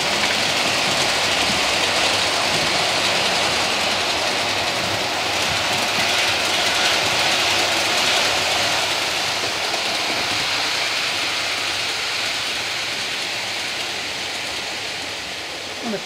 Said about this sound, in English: I'll just show a few locos running.